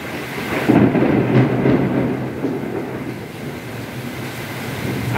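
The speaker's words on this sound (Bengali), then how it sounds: "আপনারা শব্দ শুনেই বুঝতে পারছেন যে প্রচুর বজ্রপাত হচ্ছে।" Thunder rumbles low and heavy through a heavy morning downpour in a village, swelling and slowly fading over several seconds with steady rain underneath.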